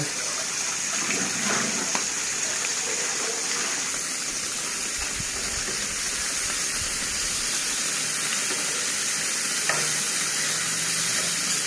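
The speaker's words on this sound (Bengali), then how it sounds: "মাছগুলো একটু হালকা ভেজে নিচ্ছি" Pieces of rohu fish frying lightly in hot oil, giving a steady, hissing sizzle that holds at an even level throughout, close up, with a few faint knocks and no speech.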